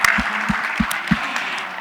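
Audience applause at a literary salon during the Abu Dhabi International Book Fair, a few scattered claps sounding in a loose rhythm over a faint room background.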